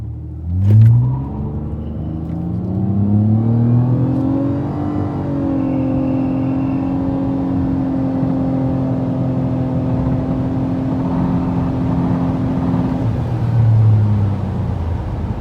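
A 2009-2014 Nissan Maxima, seventh generation, accelerates hard on a backroad, its engine rising in pitch through long pulls with a shift between them, loud and steady from inside the car, with no talking.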